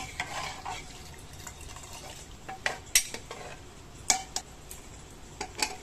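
Masoor dal is stirred with water and mustard oil in a pressure cooker pot, soft liquid swishing punctuated by a few sharp spoon taps against the metal.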